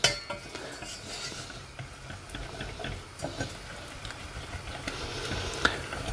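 Sugar melting into caramel for salted butter caramel as a utensil stirs the pan, with soft scrapes and light clinks against the metal over a quiet hiss, close and unhurried, with no one talking.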